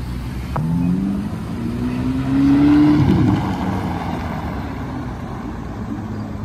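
A Ferrari SF90 drives past on a city street behind a bus, its engine note rising and swelling to a peak before fading away, heard over steady traffic rumble.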